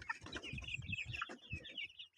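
Village chickens cluck at feeding time in a quick run of short, choppy calls with a few higher squawks, quiet and fairly close.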